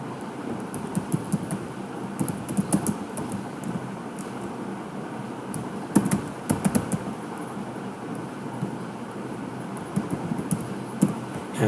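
Fingers type on a computer keyboard in irregular bursts of soft clicks over a low, steady room hum.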